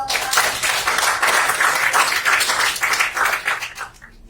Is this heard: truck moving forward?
no